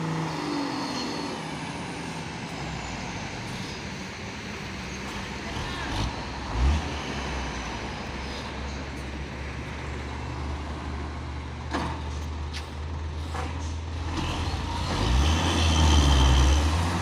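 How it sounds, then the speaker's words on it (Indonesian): A Fuso Super Great truck labours up the steep Bukit Kodok hill climb at midday, its engine a steady low drone with a deeper heavy rumble swelling near the end, heard from the roadside amid distant traffic. "Satu nih truk Fuso, sepertinya ini super great melewati tanjakan Bukit Kodok di siang hari ini"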